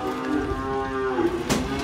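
Cattle being brought home for winter give a single long, close moo that wavers slightly in pitch, loud and clear with faint farm noise behind it.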